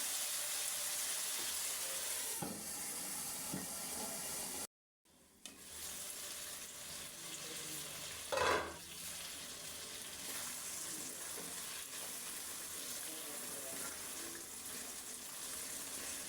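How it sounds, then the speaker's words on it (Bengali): A steady sizzle of curry braising in a pan, with a brief scrape of stirring partway through and a momentary dropout early on. "এটাকে আমি একটু নাড়াচাড়া করে এখন এটাকে কষানোর জন্য আমি ঢেকে দিব।"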